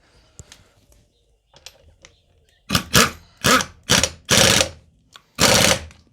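Pneumatic impact wrench tightening a fastener to 210 Nm, several loud rattling bursts of about half a second each after a quieter stretch of faint clicks and handling noise, close and with no talk.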